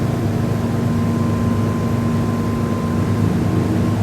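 A steady, loud motorboat engine drone at 3,000 revs and 28 knots, with a constant low hum and rushing water noise, running unbroken throughout.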